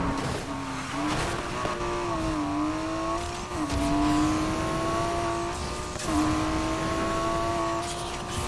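A racing car engine in Need for Speed Heat holds a loud, continuous whine, its pitch climbing and dropping through several gear shifts over a steady road roar.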